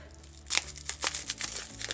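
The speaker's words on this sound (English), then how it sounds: "I have to use my scissors here because these are very carefully packaged and taped up" Scissors cut through carefully taped packaging on a mystery box, giving a run of crisp crinkling and snipping bursts close to the microphone with no speech.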